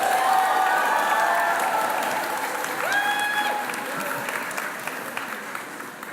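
An audience at a graduation ceremony applauds steadily, a dense wash of clapping that slowly fades, with a voice briefly speaking over it.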